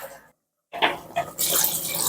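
Water from the blender jar rinse is poured into a pot of mutton bone curry. After a brief silence it comes in short splashy bursts, then settles into a steady, close pour.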